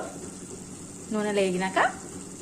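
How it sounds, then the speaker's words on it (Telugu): Milk poured into a pan of ridge gourd frying in a little oil lets out a sudden soft sizzle and bubbling hiss, brief and close, after a quiet background. "కొంచెం పాలు వేస్తాను ఇప్పుడు."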